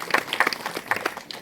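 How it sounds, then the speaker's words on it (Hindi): An audience claps in welcome for guests at a gathering at a de-addiction centre, a short burst of scattered, uneven hand claps from a small group, fairly close. "तीनों भी ताली से स्वागत है"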